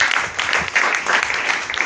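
A church congregation claps hands together in a dense, steady patter, moderately loud and sustained through the moment.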